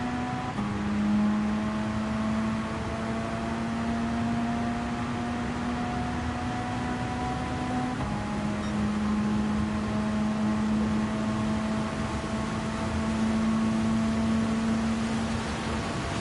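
In a racing video game at Fuji Speedway in the rain, a race car engine drones steadily, its pitch gliding up and down as another car passes, with no voices.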